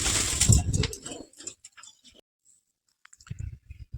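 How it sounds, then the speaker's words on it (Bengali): Kalshira pigeons coo softly up close at a loft, a few low murmuring calls with light clicks and shuffling, fading to near silence before faint sounds return. "আসুন পায়রা দুটোকে আমি ছেড়ে শক করাই দেখুন পায়রা দুটো আমি ছেড়েছি শক করাচ্ছি"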